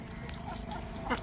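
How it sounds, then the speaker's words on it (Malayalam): Ducks quack outdoors, faint and distant, with one short nasal quack standing out near the end over low background noise. "താറാവിനെ പിടിച്ചിടാം"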